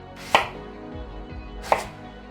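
Two crisp, close knife cuts into an apple around the core, spaced about a second and a half apart, with quiet kitchen room tone between them.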